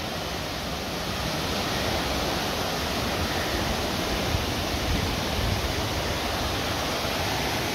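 The Șipot waterfalls roar in a continuous, broad rush of falling water, loud and close, an unbroken wash of spray with no voices over it.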